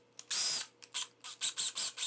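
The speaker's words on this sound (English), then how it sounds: "I've got a smaller drill." A small power drill whirs in short, close bursts, one longer run followed by a series of quick, evenly spaced pulses against a quiet background.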